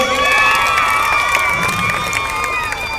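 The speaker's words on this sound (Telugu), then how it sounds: "వాళ్ళందరికీ ఒకసారి గట్టిగా క్లాప్స్ కొట్టండి అందరూ" A large crowd at an event in Naidupeta claps, cheers and shouts loudly and continuously, with excited high-pitched voices rising over a dense wall of noise.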